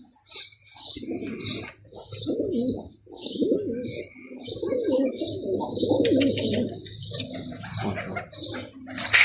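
Racing pigeons coo repeatedly in soft, low, throaty bursts, close and overlapping, with higher chirps above them at a pigeon club on race day, and faint wing flutters.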